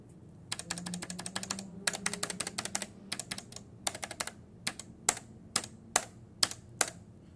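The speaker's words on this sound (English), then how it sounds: "I'm going to put these keycaps on, I'm going to tap them" Keycaps are tapped on a third-generation Fujitsu leaf spring keyboard, bursts of quick, close clicky strikes with rapid flurries followed by slower single taps, with no talking.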